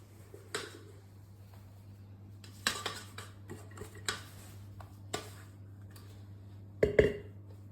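Egg white being folded into a soufflé mixture in a bowl produces a handful of light clinks and taps of a utensil against the bowl, spaced irregularly over a quiet background with a low steady hum.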